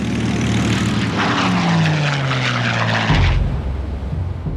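An old propeller-driven military airplane drones loudly overhead, its engine pitch sliding downward as it passes, with a deep rumbling roar swelling near the end.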